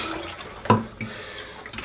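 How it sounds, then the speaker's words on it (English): Water is dumped from the reserve tank of a fish tank filter into a sink, giving a quick splash and a few drips within two seconds, close and moderately loud. "I want to dump all the water out of the reserve tank."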